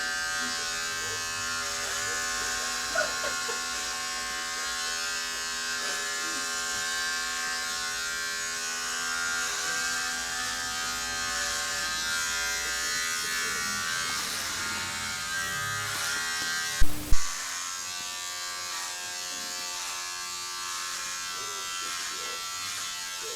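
Electric hair clipper buzzing steadily and close throughout a haircut, a constant whine with a couple of brief louder knocks near the end; no voices.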